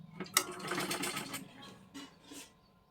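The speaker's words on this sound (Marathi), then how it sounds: "इथून बरोबर आपल्याला शिलाई मारायला सुरुवात करायची आहे" A domestic sewing machine stitches blouse piping in a short, close burst of whirring needle strokes that trails off into a couple of softer pulses.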